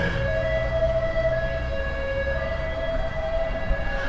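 An ambulance siren wails steadily at fairly close range, a sustained tonal whine holding through the whole stretch over a low rumble of traffic.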